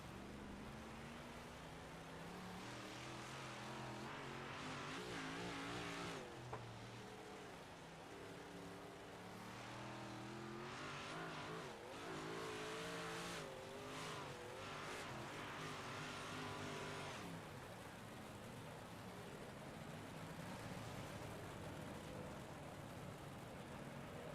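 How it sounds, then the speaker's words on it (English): Race cars at Limaland speedway roar around the track under green-flag racing, engines rising and falling as cars pass, faint and distant-sounding throughout with no talk. "Green flag racing here, guys."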